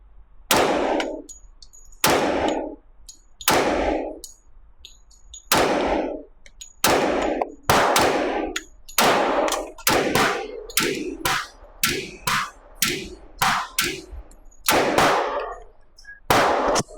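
Ruger LC Carbine .45 ACP shots fired one at a time outdoors, each a loud sharp crack with a decaying tail. The spacing is slower at first and then quickens into a faster string of closely spaced shots.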